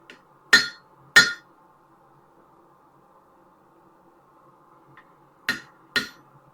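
A hammer strikes hot metal while a hair pin is forged at a Pritchel hole, giving four sharp ringing blows in two pairs separated by a long quiet pause.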